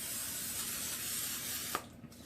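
Cooking spray hissing steadily onto baking pans, close and fairly quiet, a continuous spray lasting nearly two seconds and ending with a small click.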